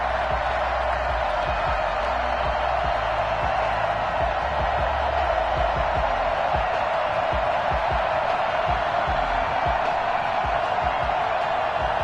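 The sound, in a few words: NFL stadium crowd cheering before Buccaneers vs Falcons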